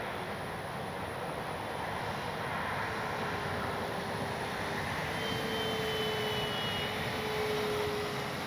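FMS P-47 Thunderbolt RC model warbird airplane flying overhead, a steady continuous electric motor and propeller drone with a faint rising tone, moderately distant and even in loudness throughout.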